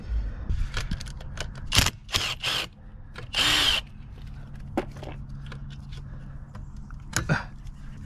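An impact wrench hammers in several loud bursts while removing a pit bike's stator, with clattering tool noise and handling sounds between them.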